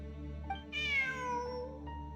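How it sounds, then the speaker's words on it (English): A cat in the video game Genshin Impact gives a single clear meow with a falling pitch, heard over a steady musical background drone with no talking. "Look, a cat."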